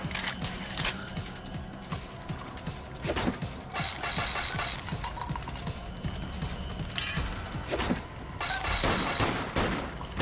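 Rapid gunfire from the video game Dead Nation Apocalypse Edition rattles almost without a break, dense and loud, with sharper blasts and impacts standing out over a steady stream of shots.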